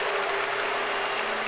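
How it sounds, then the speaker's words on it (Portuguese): A church congregation claps hands in praise, loud sustained applause from many people filling the room, with no voices standing out. "Você bate a mão sobre, palmas para Jesus."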